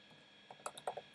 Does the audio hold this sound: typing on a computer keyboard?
yes